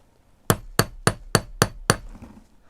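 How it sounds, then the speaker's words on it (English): A one-pound hammer strikes a small metal stamp into copper six times in an even rhythm, each blow a sharp, close metallic crack with a short ring, followed by quiet. "So I'm using the 1 pound hammer because I'm going for a smaller stamp"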